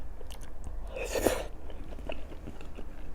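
Close chewing and soft crunching of rice-straw pasta in a spicy sauce, with one louder crunchy bite near the middle among quieter mouth sounds.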